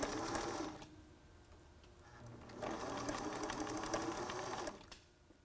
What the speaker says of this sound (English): You're just running a full stitch all the way down